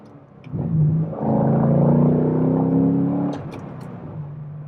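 A 2011 Chevrolet Corvette Grand Sport V8 swells into a deep, steady rumble as it is driven hard, holding a loud droning tone for a couple of seconds before easing back to a softer idle-like burble.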